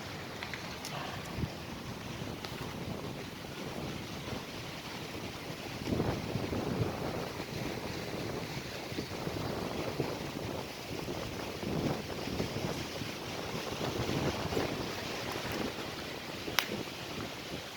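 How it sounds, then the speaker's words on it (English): A strong, cold wind blows steadily through palm trees. The gusts roar continuously and buffet the microphone loudly, and no voices are heard. "I'm feeling the wind. I see the wind. I see the wind with the trees."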